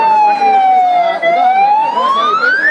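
A loud, continuous civil alert siren during a mock drill dips gradually then rises again in a slow wail, steady and close with no other sounds.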